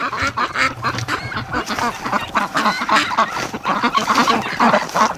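Ducks quack continuously in a noisy chorus, many birds calling at once close by, with honking mixed in.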